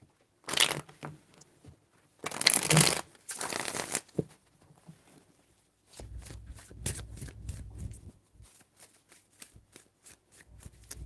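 A tarot deck is shuffled in two loud riffling bursts close to the listener, followed by softer shuffling, tapping and card handling noises.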